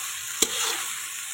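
Prawns drop into a pan with yogurt for prawn chilli pulao, giving one quick thud and a steady, fairly loud hiss of sizzling that holds to the end.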